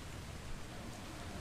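Rain in the video game Atlas makes a steady, dense hiss that stays even and moderately quiet throughout, with no other sound standing out.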